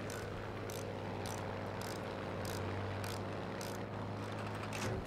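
Propeller engine of a BF 109 G-6 fighter plane on the Arras map in Battlefield V, a steady loud droning hum with a constant low tone and faint rhythmic ticking bursts throughout, no talk.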